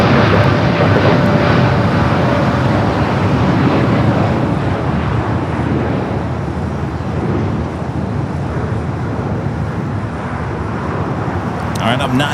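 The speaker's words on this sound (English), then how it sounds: "up next at Aero Mexico Special Livery Dreamliner now starting her roll" An Aeromexico Boeing Dreamliner in special livery begins its takeoff roll on runway 25 right at LAX, its engines a loud, continuous rumbling roar that stays strong throughout and eases only a little toward the end.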